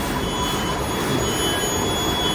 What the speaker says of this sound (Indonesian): ini yang mounter yang terakhir adalah IC mounter ya, mesin IC mounter